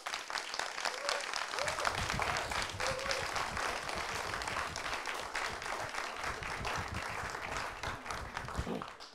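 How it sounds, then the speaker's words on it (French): At a French quiz competition final, the audience applauds the T-Rex team with fairly faint, steady crowd clapping that continues throughout. "Je vous demande de les applaudir."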